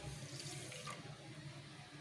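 Water runs steadily into a pan, about one glass' worth, as sugar syrup is started for chandrakanthalu sweets; a continuous splashing pour, close and moderately loud, with no talk.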